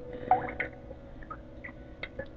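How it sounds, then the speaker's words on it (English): Water filling an empty bottle in a witch's-house adventure game, heard as a few soft, close liquid drips and blips scattered over a faint background hum. "Item. Empty bottle. Fill with water."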